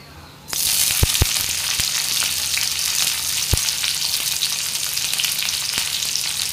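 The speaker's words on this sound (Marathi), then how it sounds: "मिरची चांगली तेलात फ्राय करून घेऊया।" Green chilies frying in hot oil in a home kitchen, an abrupt onset of loud, steady sizzling with a few sharp clicks of stirring scattered through it.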